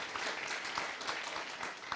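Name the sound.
audience applause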